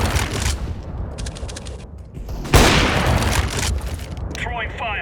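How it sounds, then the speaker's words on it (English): Flashbang grenade and gunfire in a Counter-Strike: Global Offensive match, with a sharp bang midway followed by a burst of noise, under bursts of gunshots and radio-style voice callouts. "Deploying flashbang."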